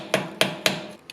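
Three sharp metal-on-metal hammer strikes on a chisel driven against the axle nut of a Mercedes C63 AMG, evenly spaced and close, ringing briefly, with a lighter fourth tap at the end.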